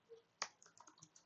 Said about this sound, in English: Let's type the command again.